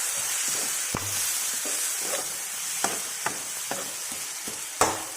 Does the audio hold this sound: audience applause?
no